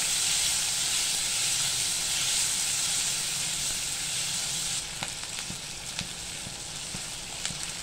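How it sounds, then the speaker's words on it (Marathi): Onion fries in a pan until reddish, giving a loud, dense, steady sizzle that eases a little partway through, then goes on with a few sharp clicks from stirring. Nobody talks. "कांदा आपल्याला चांगला लालसर परतून घ्यायचा आहे."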